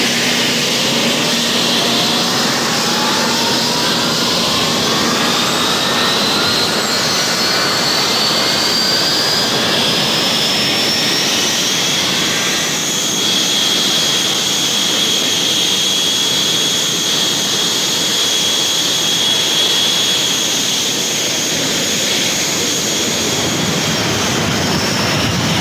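An Argentine Navy jet armed with Exocet missiles takes off from a southern Argentine airfield during the Falklands War, a loud, sustained jet roar with a whine that climbs in pitch and settles into a high steady tone.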